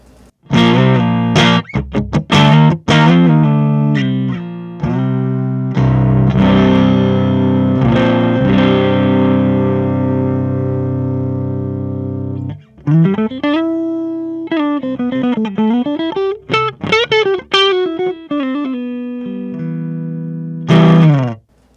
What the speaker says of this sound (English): Probably my favorite one there, the Friedman on the clean channel.